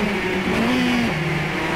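Renault race car engine in the Automobilista racing game revs steadily with a rising then falling tone, a continuous close-up drone with no voices.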